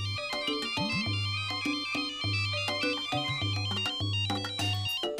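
A melodic electronic ringtone plays alone, a repeating tune of bright beeping tones over a steady low pulse, loud and close for several seconds.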